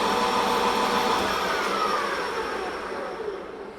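Metal lathe spinning an unbalanced 4-jaw D1-4 camlock chuck at around 600 RPM, a loud steady whirring hum with a high whine, gradually easing slightly in level toward the end, no voices.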